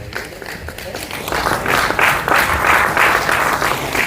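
Audience at a BSNL jubilee celebration breaks into applause, starting sparse and building after a second or so into steady, dense clapping with a murmur of crowd voices underneath.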